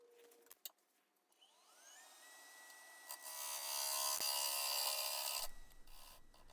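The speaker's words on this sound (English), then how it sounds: "I think they call this back hollowing, where you're basically hollowing with the flute of the gouge pointed toward the left." A lathe whines up to speed, then a gouge back-hollows a green birch bowl with a loud, steady rasping cut for several seconds. It ends abruptly, leaving a softer hiss.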